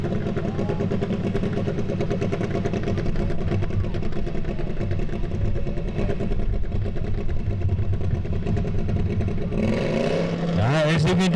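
A garden tractor engine runs hard at a tractor pull at a spring show, a loud, steady mechanical roar with an announcer talking over it and a burst of higher revving near the end.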